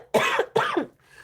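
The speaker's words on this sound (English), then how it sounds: "you ever cough so much your neck hurts?" Two hard, close coughs in quick succession from a woman, each a harsh burst followed by a brief quiet tail.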